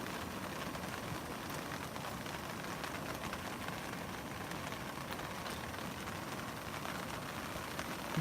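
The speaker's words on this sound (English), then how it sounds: "And here it's raining, hence why we're cooking inside." Rain falls steadily outdoors in Central Australia as a soft, even hiss of drops hitting surfaces, faint and continuous throughout, with no voices.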